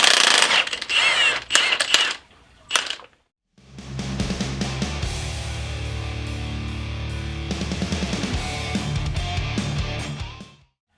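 An impact wrench works on a motorcycle bagger with a big front wheel, giving a few short rattling bursts, then a sustained loud hammering buzz lasting about seven seconds, close to the listener.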